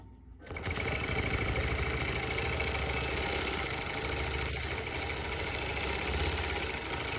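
A longarm quilting machine starts up and stitches a quilt, settling into a fast, steady mechanical chatter with a low rhythmic thump, close and uninterrupted.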